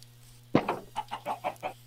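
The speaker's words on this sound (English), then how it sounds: "There's a chicken." A chicken in a video game gives a short burst of clucks, about six quick soft bursts in a row after a brief sharp first note, fairly close over a faint steady hum.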